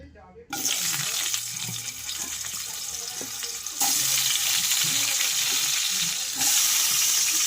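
Potatoes dropped into hot oil for a Bengali shukto fry a pan of bitter gourd, setting off a loud, steady sizzle that jumps louder partway through as more pieces go in, with no talk.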